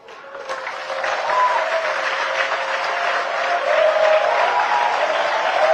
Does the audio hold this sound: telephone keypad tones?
no